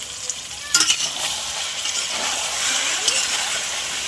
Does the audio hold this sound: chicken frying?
yes